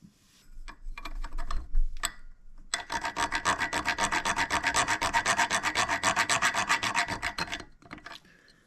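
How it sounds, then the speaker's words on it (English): A thread file worked back and forth under light pressure over the damaged threads of a Suzuki RM125 two-stroke crankshaft, giving a close, steady run of rapid rasping strokes after a few scattered scrapes, with no talking. "you're just going to run it back and forth with a little bit of pressure, and it should take any burrs out of the threads"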